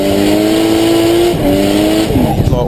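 Drift car on Achilles radial tyres at Ruapuna Raceway, Christchurch, with a loud close engine revving and shifting pitch, tyres squealing as it slides sideways through a corner.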